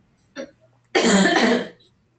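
A short throat clear, then a longer harsh cough burst about a second later, close to the microphone in an otherwise quiet room.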